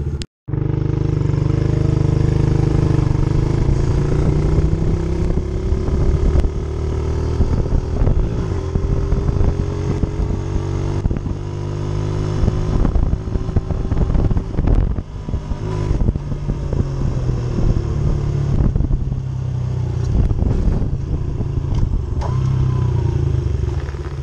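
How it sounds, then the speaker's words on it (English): A 75cc dirt bike revving hard at full throttle, a loud close engine roar with climbing pitch through the gears and brief dips at shifts, sustained for over twenty seconds with no talk. "You guys are gonna see me go as fast as this dirt bike can."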